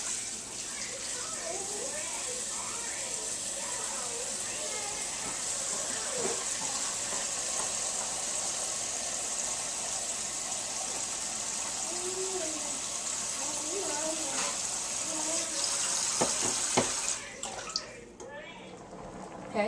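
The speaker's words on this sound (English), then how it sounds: "I'm going to add enough water to cover the ham" Tap water running steadily into a pot to cover a ham for soup, a continuous gushing hiss lasting most of the clip before the flow stops, with faint clatter and a quiet voice beneath.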